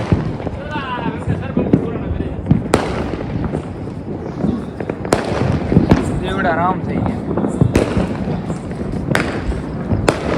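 Diwali firecrackers burst repeatedly outdoors, with loud sharp bangs and crackling pops at irregular intervals, under ongoing talk and shouting.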